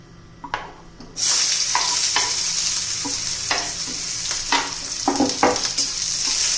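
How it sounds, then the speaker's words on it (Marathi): Onion hits hot oil with a sudden loud sizzle that continues steadily, punctuated by the clatter of a spatula stirring the pan. "कांदा परतून घेऊया चांगला।"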